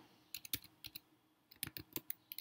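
Fingers typing a web address into a browser on a Mac notebook keyboard: quiet, close key clicks in two short quick flurries separated by a brief pause.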